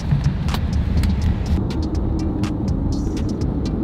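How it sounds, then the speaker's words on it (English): A Tesla Model Y electric car drives steadily with road and tire rumble and scattered clicks and rattles, continuous and fairly loud, on a trip across Montana. "We're gonna take the Model Y over there, plug it in"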